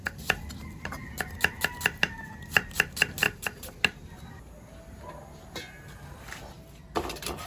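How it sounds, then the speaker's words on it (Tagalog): A knife chops garlic and ginger on a board for goat papaitan, with quick, crisp knocks in an uneven rhythm that slow and thin out toward the end, close up and without talk. "Ayan, chop-chop lang po natin"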